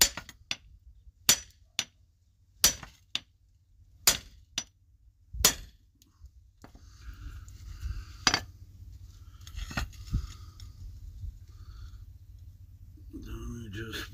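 A hammer strikes an axe in a series of sharp metallic clanks, about seven evenly spaced hits followed by sparser knocks and handling noise, loud and close.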